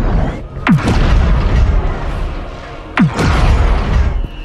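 Weapons fire and explosions in a Rebel Moon sci-fi movie battle: two heavy, loud booming blasts with sweeping whooshes, each rolling into a long rumbling tail, separated by about two seconds.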